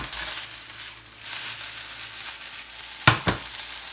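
Chicken fried rice sizzles and fries in a hot pan in a restaurant-style home kitchen, a steady crackling hiss throughout, broken near the end by two sharp scraping clanks of a spatula against the pan.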